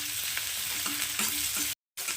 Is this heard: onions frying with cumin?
yes